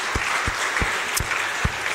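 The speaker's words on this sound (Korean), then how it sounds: "하나님께 다시 한번 영광의 박수 올리겠습니다" Applause from a church congregation during a service, a steady wash of clapping held at an even level for a couple of seconds, with no speech over it.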